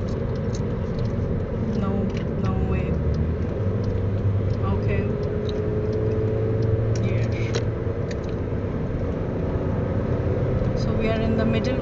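Heavy multi-lane highway traffic between Nizwa and Muscat in Oman, heard from inside a moving car: a continuous low road rumble and engine drone with passing vehicles, under intermittent talk.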